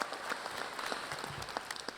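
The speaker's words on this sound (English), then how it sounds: "Let's get another round of applause up in here." Brief applause from an audience at the Colin Powell School's 2025 graduation ceremony, a soft, distant wash of many hands clapping with a few sharper claps standing out.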